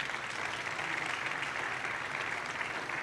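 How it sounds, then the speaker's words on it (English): A conference audience applauds after a technical talk at Devconnect in Argentina, a steady, moderately loud wash of clapping from a large room. "Round of applause for Marco."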